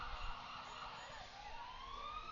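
Siren of a Brownsville Ambulance Service unit passing in a town Americanism Day parade, a continuous wailing tone with slowly sweeping pitch heard over low rumble and crowd noise.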